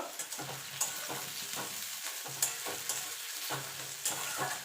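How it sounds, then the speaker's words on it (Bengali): Onion and green chili frying in fish oil, a steady loud sizzle with repeated scraping stirs of a spatula in the pan, no voices. "এবার এটাকে একটু ভাজা ভাজা করে নেব।"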